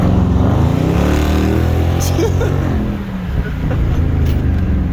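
Loud close engine of a Dodge Charger Daytona Scat Pack revving, a deep rumbling roar with a brief dip and rise in throttle before settling back to a heavy burble.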